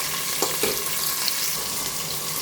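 Onions hit hot oil with cinnamon, cardamom and other whole spices for chicken biryani, giving a steady close sizzle with a couple of stirring clinks and no talking.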